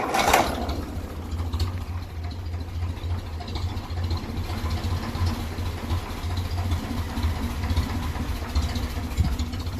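A 1957 Ferguson 35 tractor with a TVO engine, started on petrol, idles steadily and loudly for the whole stretch, a low, even chugging with a little exhaust blow and no voices over it.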